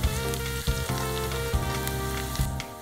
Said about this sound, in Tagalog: Diyan lang natin mag-brown, maluto ang ating garlic at onion.